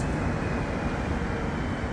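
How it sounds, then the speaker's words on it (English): The last Orange Line metro train of the night, set 8, rumbles through Côte-Vertu station in Montreal, a steady, loud, broadband roar with no voices. "here's the last train going in the Côte-Vertu direction, set 8"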